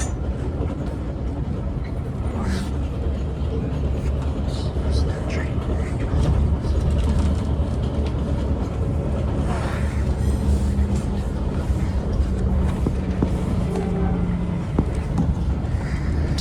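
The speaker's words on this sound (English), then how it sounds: "Here we are pulling into Palo Alto Station to make our scheduled stop." A Caltrain train rolls into Palo Alto Station, a steady loud rumble of wheels and carriage noise filling the ride throughout with faint squeaks, and no clear braking burst.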